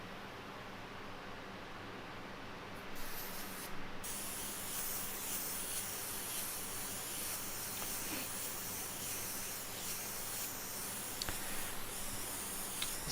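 An airbrush sprays paint onto a T-shirt with a continuous soft hiss that grows stronger after a few seconds and keeps going steadily and close-up for over ten seconds, with no talking.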